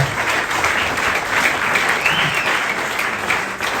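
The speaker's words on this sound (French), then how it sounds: "Est-ce que tu peux acclamer pour le Seigneur?" A church congregation applauding for the Lord during a morning service, a steady dense wash of clapping from a crowd that carries evenly and loudly throughout without any break.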